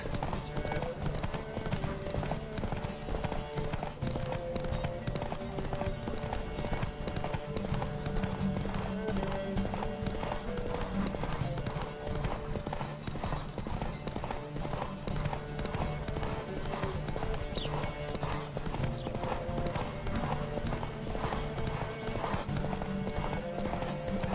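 Several horses gallop at speed in a riding race, their hooves beating a dense, continuous clip-clop throughout, with voices heard over the pounding.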